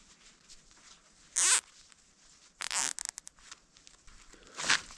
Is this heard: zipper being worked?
yes